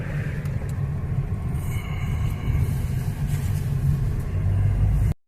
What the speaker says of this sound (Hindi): अब गाड़ी जा रही है